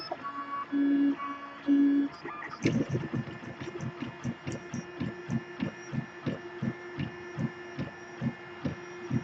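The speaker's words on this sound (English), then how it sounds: "You can do it, 3D printer." Desktop 3D printer running a 40mm calibration cube at high speed, a steady motor hum broken by a rapid train of rhythmic thumps and whirs after two short tonal beeps, close and loud with no talk.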